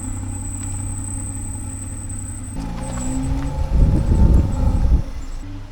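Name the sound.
car engine running with an unusual sound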